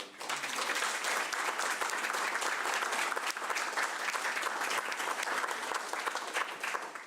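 Sustained applause from an audience at a council meeting, steady and dense for the whole stretch as people clap for the staff.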